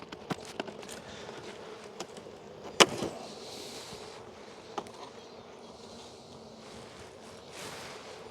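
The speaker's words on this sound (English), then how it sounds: "And that's a lot of bees." A steady, dense buzzing of many honeybees close by as a hive's top box is taken off for inspection, with a few sharp clicks and knocks over the drone.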